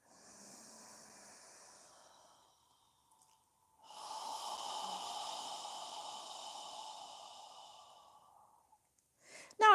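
Deep yoga breaths recorded close and quiet: a long soft inhale, a pause, then a longer, fuller breath with a hissing, airy quality. A short sharp noise follows at the end.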